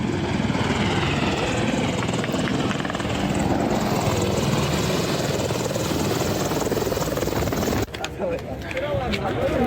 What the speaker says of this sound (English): U.S. helicopters trying to scare people.